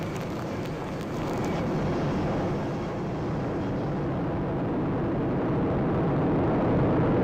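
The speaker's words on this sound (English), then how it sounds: "We have ignition and liftoff of the United Launch." Broad, steady roar of a ULA Atlas V rocket at liftoff for the USSF-51 satellite launch, a dense rumbling wash that holds loud and unbroken throughout.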